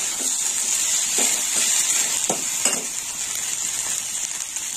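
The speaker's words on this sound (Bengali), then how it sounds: "এই দেখুন বন্ধুরা, সজনে ফুল অনেকটা ভাজা হয়ে এসেছে।" Drumstick flowers fry in a pan with a steady, close hiss and sizzle, broken by a few soft clicks of stirring.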